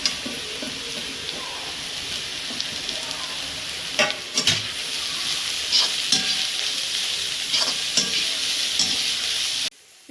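Capsicum and cabbage stir-frying in a pan, a steady loud sizzle throughout, broken by scraping stirs and spatula taps, ending abruptly.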